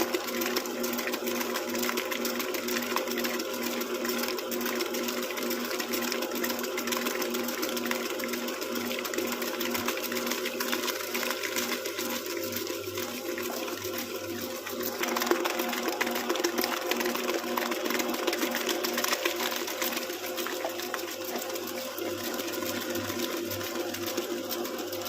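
An electric mixer beats eggs and sugar for a bread pudding cake batter, a constant loud whirring motor drone running without pause, with a slight change in pitch and intensity midway.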